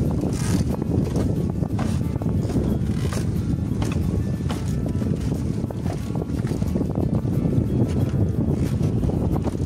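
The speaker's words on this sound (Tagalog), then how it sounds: "Kasi sobrang lakas ng hangin." Strong wind buffets the microphone in a loud, continuous roar while fishing from a boat on open water in the Philippines, with water and hull noise mixed in and no clear talk.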